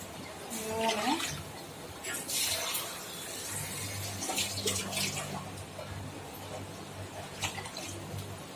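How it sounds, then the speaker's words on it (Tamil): Water poured into a pressure cooker holding soaked rice for chicken biryani, a steady splashing, gurgling pour running close and fairly loud for several seconds, with a voice talking at the start. "இப்போ நம்ம 4 கப்பு வாட்டரை ஆட் பண்ணிக்கலாம்."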